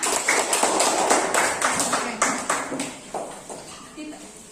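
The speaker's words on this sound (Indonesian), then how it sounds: "tepuk tangan dulu buat Sarah, Nak" Pupils in a primary school classroom clap for a classmate in quick, rhythmic claps that start strong and gradually fade, with voices mixed in.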